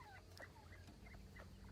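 A chicken escaping its pen on a morning farm gives a few short, faint clucks and calls, spaced irregularly over low background hum.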